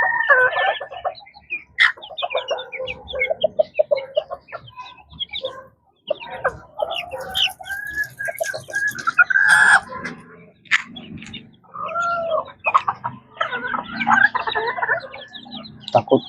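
Young chicks and farm chickens clucking and peeping close by, a continuous busy chatter of short calls with occasional louder squawks throughout.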